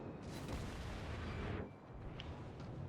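The main guns of an Iowa battleship fire in World of Warships, a loud deep boom that rolls on for over a second before fading into quieter game ambience, with no one talking.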